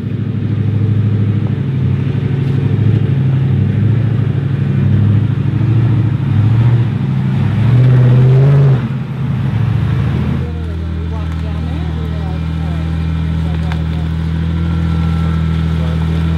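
Off-road truck engine rumbling steadily on a West Virginia mountain trail hill climb, loud low drone that swells and dips with throttle before settling to an even idle-like hum, with people talking over it.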